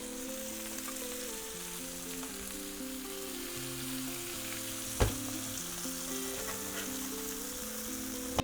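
Flank steak seared in a pan while melted butter is spooned over it, a steady close sizzle and crackle with a brief louder clatter partway through, and no voices.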